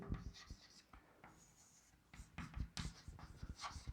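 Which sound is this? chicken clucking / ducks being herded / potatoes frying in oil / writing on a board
writing on a board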